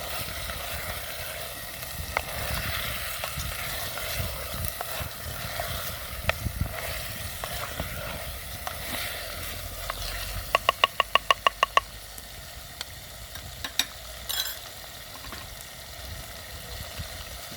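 Mutton and garlic paste frying together in a pan for aloo gosht, stirred as they cook. A faint, steady sizzle runs throughout, with a quick burst of sharp taps near the end.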